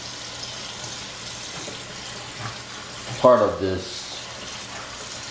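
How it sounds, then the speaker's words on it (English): Cool tap water runs over cooked macaroni being rinsed in a sink, a soft steady rush that swells into a louder splashing burst partway through, while a voice speaks briefly. "you want to not only run some cool water on it"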